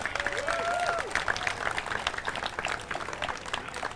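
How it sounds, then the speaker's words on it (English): Crowd applause for a marching band at the outdoor opening and dedication of a city park, moderately distant clapping sustained across the moment, with a faint tonal sweep near the start. "Please, a round of applause for the Wilby Marching Band."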